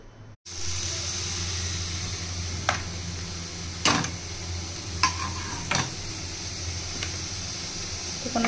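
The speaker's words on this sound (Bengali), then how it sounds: "বিনা তেলে একদম ভেজেছি।" Prawns dry-fried in a pan without any oil, giving a steady close hiss with occasional sharp clicks and pops over several seconds, and no voices.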